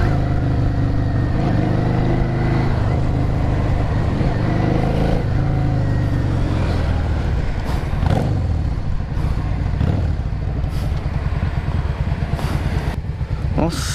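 A 2003 Yamaha Drag Star 650 motorcycle engine runs steadily while riding, a loud continuous drone close by with wind rush, and someone talks over it.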